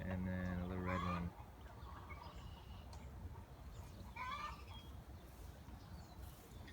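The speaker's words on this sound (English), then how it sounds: "There's the chicks." A broody hen with her small chicks clucks in a chicken yard, a burst of close clucking at first followed by softer scattered peeps and clucks against quiet outdoor background.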